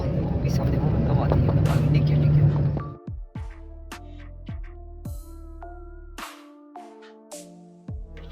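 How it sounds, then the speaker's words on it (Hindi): A car drives along a road in Pakistan, heading toward Dera Ismail Khan: a steady, loud rumble of engine and road noise for about three seconds, which then drops away as tonal music takes over. "अब्दुल्ला गाड़ी चला रहा है"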